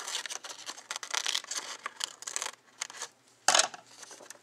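Scissors cutting the corner of a piece of chipboard, a quick series of close snips and rasping cuts, then one sharper louder snip near the end, no voices.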